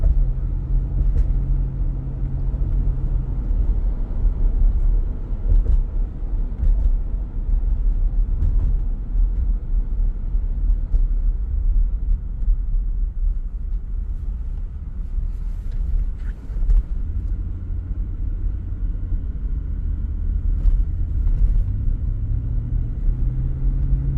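A 2004 Lexus LX470 drives along steadily, its engine a continuous low rumble with slight shifts in pitch as the automatic changes gears; no one talks.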